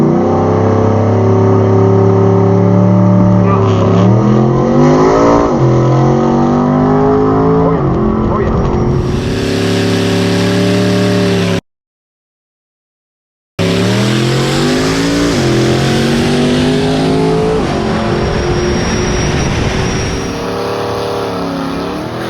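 A Chevrolet Monza drag car launches down a dragstrip with a loud revving roar that climbs through the gears. The engine cuts out briefly, then returns with more hard acceleration and a high squeal.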